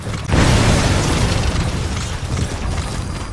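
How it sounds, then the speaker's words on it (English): A loud, sustained explosion in the Metal Gear video game bursts in suddenly after a brief quiet moment, then a heavy rumbling roar trails off gradually over a few seconds. "did you see that explosion?"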